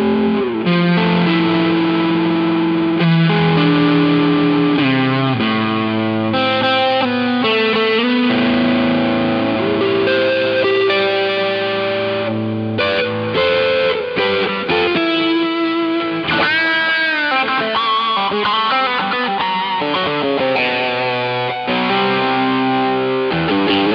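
Electric guitar played through an EarthQuaker Devices Plumes overdrive pedal with delay, a continuous driven, distorted tone with sustained chords and single-note lines, loud and close, with no talking.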